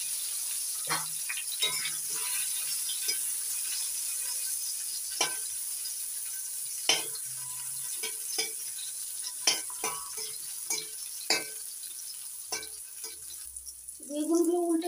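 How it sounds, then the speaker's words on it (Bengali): Salted, turmeric-rubbed eggplant slices fry lightly in oil in a pan, a soft continuous sizzle broken by frequent light clinks and stirring clicks of utensils, with a low voice briefly at the end. "বেগুনগুলো হালকা করে ভেজে নিচ্ছি।"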